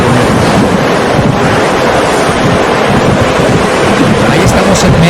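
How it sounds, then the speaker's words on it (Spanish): Recorded ocean waves play back as a loud, continuous rush of surf with steady wind-like roar, unbroken throughout and with no voices. "poner un momento el de las olas, el solo, que está solo las olas"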